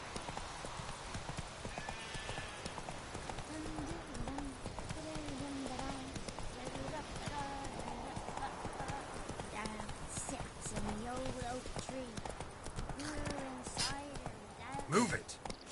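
Roach, a horse in the video game The Witcher 3, trots with rhythmic clip-clopping hooves and an occasional whinny while a voice speaks over the gait and game ambience.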